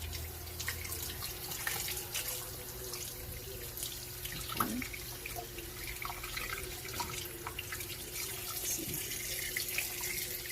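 Running tap water pours steadily into a sink as a fish is washed clean of blood, a constant close splash with occasional drips and light handling noises.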